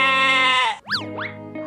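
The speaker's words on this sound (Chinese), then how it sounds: "绵羊" Cartoon sheep bleating in a children's animation: one long, steady, wavering bleat, loud and close, followed by a few short rising and falling calls with no talk over them.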